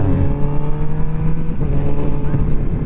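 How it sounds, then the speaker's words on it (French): Four-cylinder engine of a QJ Motor SRK921 motorcycle revving on a ride, a steady loud drone with shifting harmonic tones and rising pitch, mixed with wind and road noise and some voice. "Ah, le bruit du 4 cylindres, c'est quelque chose"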